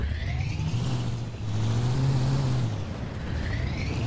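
A car engine revs steadily at mid pitch in the Junkyard Truck video game, rising and falling slightly with no talk over it.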